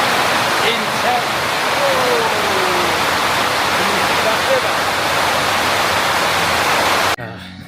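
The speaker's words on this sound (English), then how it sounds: "The rain has come a lot later than normal today." Heavy rain pouring down, a loud dense roar of steady hiss that fills the scene without pause, then cuts off abruptly near the end; a voice speaks faintly under it.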